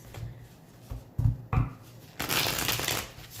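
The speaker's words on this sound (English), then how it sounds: "Give it a nice good shuffle for the Aries." A deck of tarot cards being shuffled by hand close up: a few soft taps and thumps, then a longer riffling flutter of cards near the end, with no talking.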